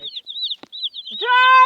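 A chick gives a string of high, thin peeping chirps, then a louder squawking cluck at the end, close and clear against silence.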